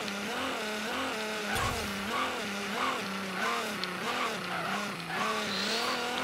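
A GTR's engine and tires during a wheelie attempt: a loud, continuous engine drone whose pitch repeatedly surges and dips in quick waves, with squealing tire noise layered throughout and no talking.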